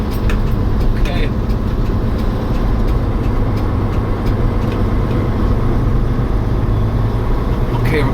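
The engine of a 1992 Hino GS truck drones loud and steady from inside the cab under a sustained load. Small clicks and rattles break in now and then.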